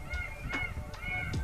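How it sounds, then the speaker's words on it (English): Geese or similar fowl honk repeatedly outside a tree house, four sharp nasal calls in steady rhythm over a constant low background. "you can hear the birds. They were there the entire night."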